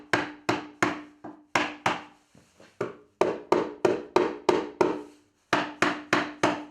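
Hammer tapping the middle of a wet pallet wood board, just under 10 inches long, to bend it: sharp wooden knocks in quick bursts of three to five, with brief pauses between groups, close and loud.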